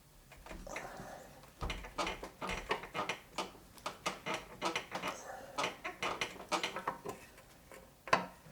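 A socket wrench ratchets on the gearbox shaft of an MGB, a run of quick, close mechanical clicks in uneven bursts, loud and alone without speech.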